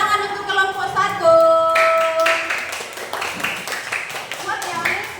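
Children in a Christian religious education class clap for the first group after its presentation, scattered handclaps building over a few seconds amid a sung or spoken tonal voice at the start, with classroom chatter around them.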